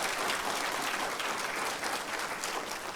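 A church congregation claps to welcome a visiting pastor, a dense, even burst of applause that holds steady throughout, heard from within the room.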